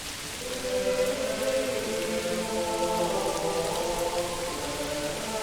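Rain falls steadily in a video game demo, a continuous dense patter on hard surfaces and puddles at moderate volume, with no voices.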